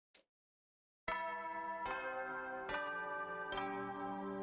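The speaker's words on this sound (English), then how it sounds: "The school bell?" In The Hundred Line: Last Defense Academy, a school bell rings with four evenly spaced, resonant chimes that ring on and overlap after a brief silence.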